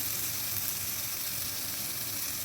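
Spice paste fries in a hot wok, giving a steady, dense sizzle with a constant hiss and crackle throughout, close and even in loudness.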